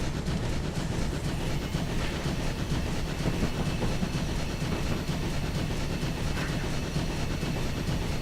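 Steam locomotive 3440 City of Truro hauling ten coaches in Train Simulator 2013, a steady loud rumble and rhythmic clatter of wheels and chuffing as the train slowly picks up speed, with no talking.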